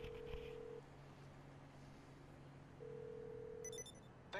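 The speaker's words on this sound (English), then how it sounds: "It's ringing. It's ringing." A phone ringing inside GTA V, two long electronic ring tones separated by a pause, faint and steady over low in-game background hum.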